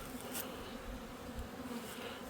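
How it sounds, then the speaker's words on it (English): Honeybees buzz steadily around a hive entrance as foragers come and go, a faint, even drone holding through the whole stretch with no voices. "These bees are not swarming. As you can see, there's a steady going in and coming out."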